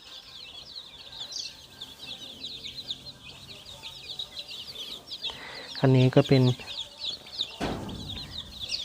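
One-day-old chicks in a cement brooding ring, warmed by a light bulb, peep continuously in a dense, high-pitched chorus close by, while someone speaks briefly over them partway through.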